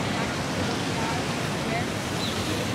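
A waterfall at a monument in Lisbon, Portugal, gives a steady, loud, broadband rush of falling water that runs unbroken, with faint talk in the background.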